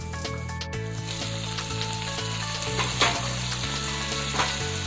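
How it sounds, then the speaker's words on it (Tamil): Quarter kilo of washed chicken stirred in a hot pan for a spicy home recipe, a steady close sizzle with faint scraping and clinking of the spoon, no talking. "ஆட் பண்ணிவிட்டு நல்லா கலக்கி விட்டுருவோம்."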